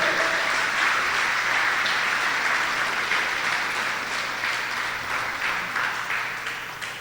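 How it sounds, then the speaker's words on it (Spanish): An audience at a church service claps in sustained applause, a thick even roar of many hands that holds steady and then slowly fades toward the end. "dale un fuerte aplauso al Rey de Reyes"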